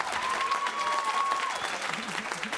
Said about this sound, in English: Let's give a round of applause to these wonderful young people.